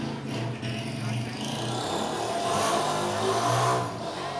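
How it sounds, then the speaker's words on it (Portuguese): A motorcycle rides past near a school, its engine rising in a steady drone and fading away, with a voice talking over it. "me sai de moto bem aqui, para atrapalhar o vídeo"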